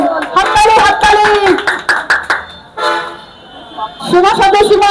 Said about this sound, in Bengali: সবাই মাতাজির জন্য একবার হরিবল, হাততালি হাততালি।